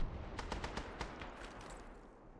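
Gunfire in the military shooter Arma 3, in a Bakhmut war setting: a rapid burst of several sharp shots in the first second, then a few fainter scattered reports trailing off at moderate distance.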